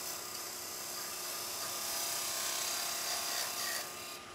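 A wood lathe turns claro walnut while a spigot is sized for a chuck, making a continuous rasping, scraping hiss from the tool on the spinning wood that swells slightly midway.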